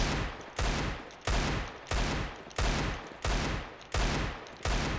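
Eight heavy Desert Eagle pistol shots fire at a steady, deliberate pace in a shooter game, each one a loud, close crack followed by a brief fading ring.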